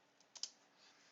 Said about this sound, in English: what I need to do is I need to type in a command